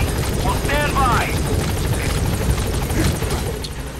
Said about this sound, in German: Jedes Mal, wenn der Helikopter kommt